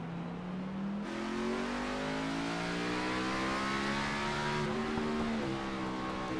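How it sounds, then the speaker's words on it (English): A race car engine in the iRacing simulator at Red Bull Ring revs steadily higher through the gears, a loud continuous buzzing whine that climbs in pitch, drops slightly at a shift, then keeps rising alone. "Let's listen to the engine."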